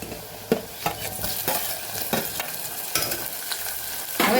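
Onions and tomatoes sizzle and fry steadily in a pan while a spoon stirs them, scraping and knocking against the metal every second or so, with no talking.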